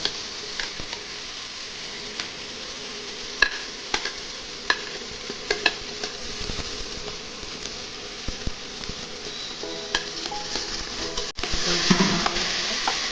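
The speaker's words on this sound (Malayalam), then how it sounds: "വഴട്ടാം നന്നായി ഇതിന് ഉപ്പും മഞ്ഞളെല്ലാം ഇട്ട് കൊടുക്കാം" Onion, tomato, potato and carrot are sautéed in a pan with a continuous close sizzle and scattered sharp clicks of the spatula, ending in a louder scraping stir.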